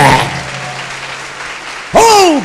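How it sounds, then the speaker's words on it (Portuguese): A church congregation bursts into loud, close clapping during a sermon, a short dense wash of applause that fades out, followed by a preacher's shout starting up at the end. "Agora aplauda Jesus de Nazaré."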